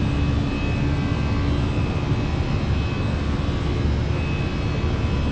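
Simulated Air Canada A319 jet engines in a flight simulator at climb thrust, a steady loud broadband roar with a faint high whine, continuous and without voices.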